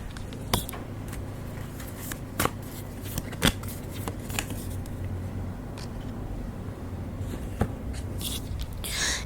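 Tarot cards being shuffled close by, a steady soft riffling broken by sharp, isolated card snaps and taps, with no talking.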